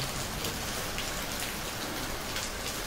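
Steady, dense rain falls without letup at a farm house, a constant even patter and hiss with no voices.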